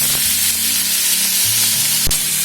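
Tomatoes dropped onto fried onions in a hot kadai for kadai paneer, a loud, continuous hiss and crackle with a sharp tap of a utensil near the end, close by and without voices.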